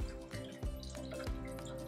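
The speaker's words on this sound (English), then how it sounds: "And I'm just simply filling up the reservoir through an opening." Water flows steadily into the reservoir of a Stromanthe plant pot through a small opening, a continuous trickling pour with faint splashy pulses, close and fairly quiet.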